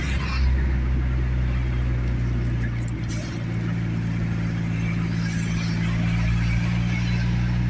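A K24A-engined Honda CRX drives along with a steady low engine rumble and road noise, even and continuous, with a brief dip partway through.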